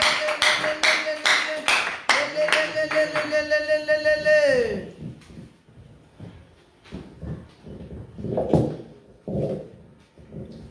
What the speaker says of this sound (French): On acclame pour Jésus.